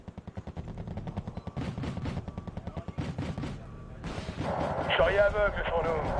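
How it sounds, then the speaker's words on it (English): A missile barrage in Wargame: Red Dragon: a rapid string of evenly spaced launches and blasts pounds steadily, followed by a denser rumbling burst, with someone talking over parts of it. "Oh boy, it's going to be a lot of missiles."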